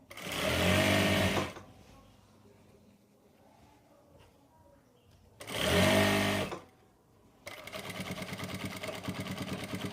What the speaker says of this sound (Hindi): यहाँ से नीचे दबाते हुए सिलाई लगा देंगे